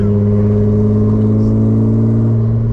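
A BMW E36 325i with a decat exhaust holds a loud, steady engine drone close by, its deep rumble constant with no clear rise in revs.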